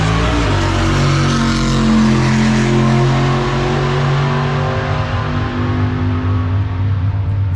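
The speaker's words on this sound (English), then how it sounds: "so we can warm it up with the tires spinning" A 1965 Impala SS drag car runs its engine hard while the tires spin to warm the engine, transmission and rear end. The deep, steady roar stays loud and close throughout, with no talking.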